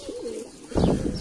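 Mardin pigeons from a flock of about ten pairs give low soft coos, a few drawn-out rolling calls followed by a louder burst of fluttery cooing near the end.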